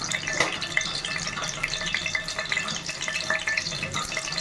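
Cumin seeds crackling in hot oil in a pan while making a home-style chicken fry, a continuous moderate sizzle with light stirring clatter.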